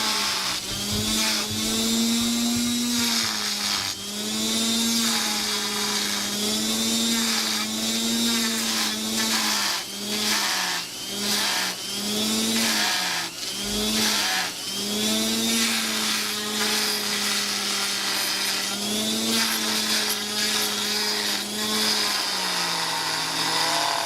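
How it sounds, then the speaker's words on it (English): A Dremel rotary tool with a sanding bit carves a decorative wooden wall plate, a loud steady high whine that dips and surges as the bit bites the workpiece, running continuously up close. "we're using a Dremel sanding bit"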